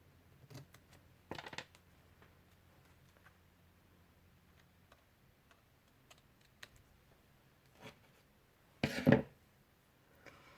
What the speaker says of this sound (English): Where's my scissors? There they are.